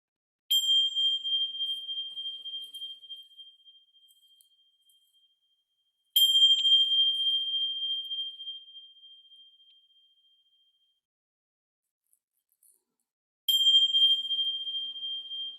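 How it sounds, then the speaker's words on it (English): Meditation bells struck three times, each a clear bright ring that slowly fades into silence before the next strike, evenly spaced and alone. "So I'm going to ring the bells 3 times."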